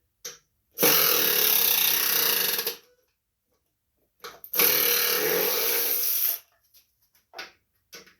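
A power driver with a 3/8 socket backs out deck shield bolts on a Poulan Pro riding lawn mower, giving two loud, steady whirring bursts of about two seconds each, close up, followed by a few short clicks.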